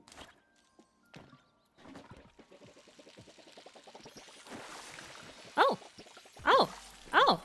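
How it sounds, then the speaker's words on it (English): Watering planted crops in the Palia video game, soft rapid splashing pours building into a few louder bursts, with light game effects and no talk. "And then you have to water them."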